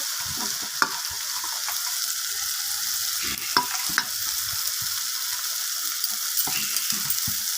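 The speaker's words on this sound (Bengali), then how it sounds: "ধনিয়া পাতাটা দিয়ে ভালোভাবে নাড়িয়ে চাড়িয়ে নেব মশলার সাথে" Chopped coriander leaves are stirred into frying masala for rui fish kalia, a dense close sizzle broken by a few sharp clinks of a spatula against the pan.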